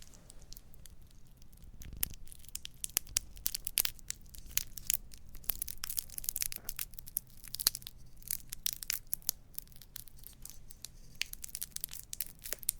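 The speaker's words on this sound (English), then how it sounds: "are these lollipops, because the crinkling is very small but intense" Lollipop wrappers are crinkled close up, producing dense, fine crackling with many small sharp snaps that continue without pause.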